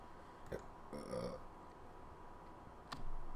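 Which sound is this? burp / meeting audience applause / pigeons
burp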